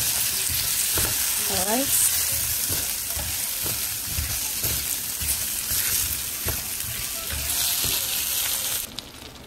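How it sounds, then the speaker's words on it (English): Potato pieces frying in oil in a pan while a Guyanese-style bangamary fish curry is made, giving a steady, loud sizzle that runs throughout, with a few stirring scrapes and someone speaking briefly over it. "Potato and let it fry for another"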